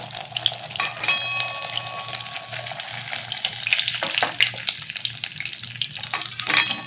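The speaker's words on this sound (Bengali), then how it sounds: "এরকম করে বাদ বাকি পকোড়াগুলো ভেজে নেই আমি" Paneer pakoras of Indian cottage cheese fry in hot oil, a close, steady crackling sizzle with bubbling pops and occasional utensil scrapes throughout.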